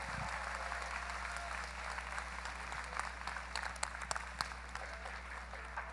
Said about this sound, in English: So a round of applause for those guys.